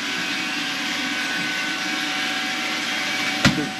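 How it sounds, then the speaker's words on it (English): A vacuum pump on a two-door Atosa refrigeration unit gives a steady, broadband mechanical whir, unbroken and fairly loud, with a faint hum, and a brief knock near the end. "while we're on the vacuum pump"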